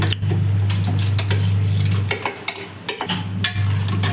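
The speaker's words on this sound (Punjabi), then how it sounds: "ਇਹਨਾਂ ਨੂੰ ਹੁਣ ਆਪਾਂ ਨੇ ਤਰੀ ਦੇ ਵਿੱਚ ਮਿਕਸ ਕਰ ਲੈਣਾ ਹੈ" A spoon stirs mashed potatoes into curry gravy in a pot for aloo sabzi, with repeated close metallic scrapes and clinks over a steady low kitchen hum.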